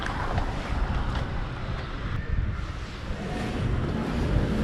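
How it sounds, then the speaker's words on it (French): Strong wind buffets the microphone outdoors on a street in Paris's Chinatown, a loud, steady, roaring rumble that fills the whole stretch with no pauses and no talking. "Le vent qu'on se tape, c'est dingue."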